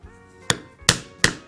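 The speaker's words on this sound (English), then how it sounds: "then I will punch the proper size hole" A hole punch is struck into leather for a knife sheath, three sharp close thwacks in quick succession with short ringing decay.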